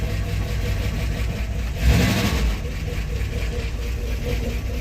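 A 1970 Dodge D100 engine runs steadily after a cam swap with DLC lifters, idling close by with a brief rise in revs near the two-second mark before settling back.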